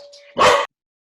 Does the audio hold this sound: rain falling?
no